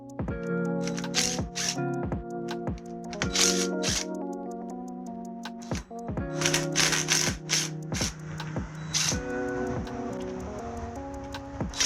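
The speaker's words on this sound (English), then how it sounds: "we are putting everything back together and torque the bolts down to 14 foot-pounds" Tools clicking and clattering as bolts are torqued down on a Toyota 1JZ-GTE VVT-i engine during reassembly, with sharp repeated ticks and clicks in irregular bursts under steady background music, close and fairly loud.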